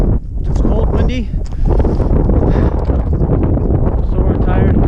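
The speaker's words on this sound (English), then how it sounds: "It's cold, windy." Strong wind buffets the microphone on the Laugavegur hiking trail in Iceland, a loud, steady roar with gusty rumbling throughout and faint voices underneath.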